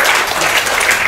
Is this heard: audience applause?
yes